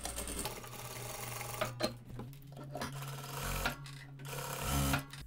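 Sewing machine topstitching a wide seam around a denim dress collar, a steady close mechanical whir with brief pauses and restarts.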